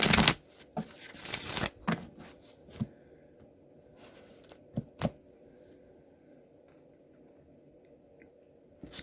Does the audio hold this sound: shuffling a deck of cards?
yes